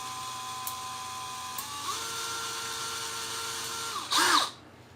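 Power drill boring through a part of a disassembled mixer, a steady whining motor tone that shifts pitch partway through, then a brief louder burst as the bit breaks through near the end.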